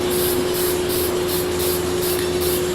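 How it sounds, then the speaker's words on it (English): Spray paint hisses from an aerosol can in a steady, loud, continuous burst while a snake skin finish is dusted on, with no talking. "Take your spray paint"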